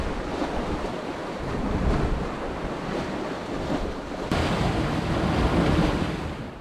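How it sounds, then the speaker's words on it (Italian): Rough sea waves crashing along a fishing coast as a storm surge builds, with strong gusting wind buffeting the microphone in a constant roar that swells and surges, no voices present. "Adesso le onde sono più alte e il vento ancora più forte"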